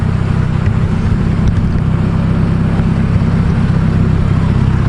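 An AWD Honda Accord with a custom exhaust idles close up, giving a loud, steady, deep rumble that holds evenly throughout with no talking.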